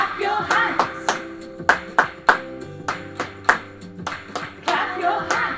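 Children in a Year 3 and 4 music lesson clap their hands in steady time to the pulse of an upbeat song, each sharp, close clap landing regularly over the music.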